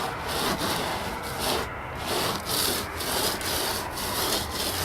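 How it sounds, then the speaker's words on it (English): Stucco patch aggregate being rubbed around with a float to blend the edges, a steady gritty scraping in repeated back-and-forth strokes, close and fairly even in level with no talking. "we are making those transitions, those edges, just seamless by rubbing that aggregate around"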